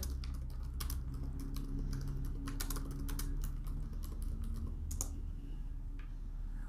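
Typing on a computer keyboard, a steady run of close, crisp key clicks with brief pauses, no talking over it.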